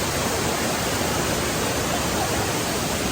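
Steady, loud rushing roar of the Thac Voi waterfall and stream in Vietnam, a continuous broadband wash of water with no breaks and no voices.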